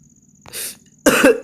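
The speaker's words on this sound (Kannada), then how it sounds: "ಭಯಕ್ಕೆ ಕೆಮ್ಮು." A person coughs twice during Only Up gameplay: a short, sharp cough followed by a louder, harsher one, close to the microphone against a quiet background.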